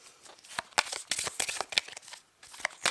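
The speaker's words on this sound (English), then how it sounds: "Let's shuffle some of these for you." A deck of cards is shuffled by hand in a series of quick, crisp riffles and flicks, close and clear with short pauses between bursts.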